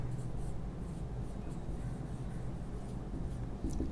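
Chalk or marker scratches and taps across a board in soft, continuous strokes, close but faint, under a steady room hum.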